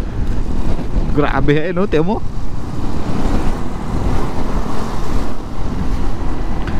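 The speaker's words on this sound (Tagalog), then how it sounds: "Sobrang lakas ng hangin, hindi nyo makikita pero mararamdaman ninyo." Strong typhoon wind from Typhoon Kristine roars steadily and loudly against the microphone throughout, a dense unbroken rush with a brief spoken exclamation near the start.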